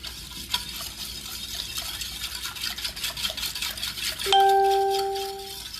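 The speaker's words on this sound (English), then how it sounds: "I'm going to use a whisk today just to stir it up" A whisk beating pudding mix into milk in a bowl, quick rhythmic swishing and light clinks against the sides, close and fairly loud, ending in a ringing metallic ding that fades out.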